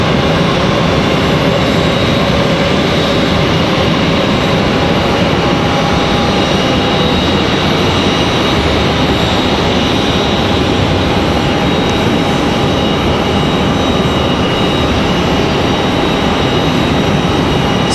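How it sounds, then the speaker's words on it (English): Copa Airlines airliner departing Raleigh-Durham International, a loud sustained jet engine roar with steady whining tones, heard alone without voices. "So Copa Airlines headed back to Panama City, Panama."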